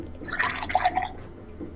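Water poured in within the video game Fran Bow: a short, soft splashing trickle with a few bright drip-like plinks near the middle, over a low steady background hum.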